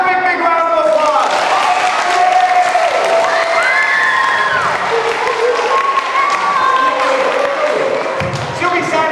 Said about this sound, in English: Give her a big, big round of applause.